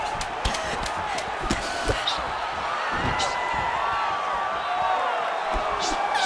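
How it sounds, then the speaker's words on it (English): Arena crowd in EA Sports UFC 5 roars loudly and steadily during a women's bout, with shouts and whoops rising over the din and scattered sharp thumps and slaps from the fight cutting through. "this crowd is going bananas"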